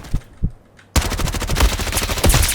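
Rapid automatic gunfire in a Roblox shooter, a few scattered shots first, then a loud, dense, continuous burst of rattling rounds close up.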